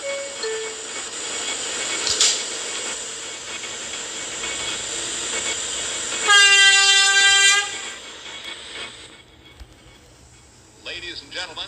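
A subway train rumbling along the rails with a steady mechanical hum and clatter, interrupted by a loud sustained horn-like tone for over a second, then a fainter tonal beep near the end.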